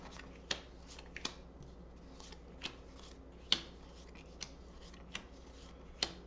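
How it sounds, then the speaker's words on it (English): A deck of board game cards is being shuffled by hand, with sharp riffling snaps and soft rustles coming in scattered bursts, close and fairly quiet. "let's give them another shuffle since these cards ain't coming out very shuffled very well"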